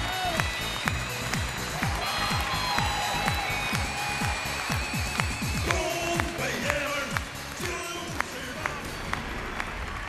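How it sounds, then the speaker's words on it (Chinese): A studio audience claps through a televised dating show while music plays. The applause is steady and moderately loud for about ten seconds, with sharp taps scattered through it. "掌声有请"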